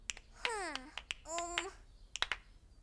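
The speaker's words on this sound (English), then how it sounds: "I want you to clap your hands with me as I snap my fingers." Fingers snap in a children's cartoon, several crisp sharp clicks in an uneven rhythm, with a rising whistle-like tone sounding between them, close and clear over a quiet background.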